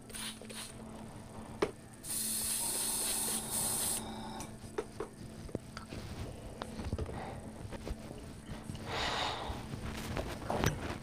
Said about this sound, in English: A little bit more water, a little bit more spraying, and that should do the job.